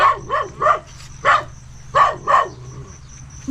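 A dog barks in several sharp bursts, some in quick doublets and triplets, fairly close, over a steady background of insect or cricket hum with no talking.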